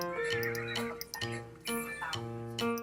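A horse in the Roblox game Horse Life neighs and whinnies repeatedly in close, loud, tonal bursts, with faint clicks around them.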